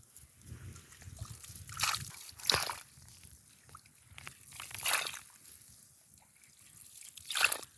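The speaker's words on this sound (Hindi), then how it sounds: "अब इसके अंदर वो खारा पानी डालना होगा इस तरह।" Salt water is poured into a freshly dug pit outdoors, making repeated sloshing splashes and gurgling trickles in uneven bursts, moderately close.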